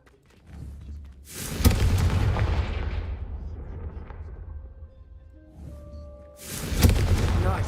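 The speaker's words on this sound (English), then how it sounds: "a Confringo cast travels a bit farther than that of a spell like Incendio" Confringo spell in Hogwarts Legacy blasting candelabras, two heavy booming fiery impacts a few seconds apart, each with a loud crack and a long rumbling decay.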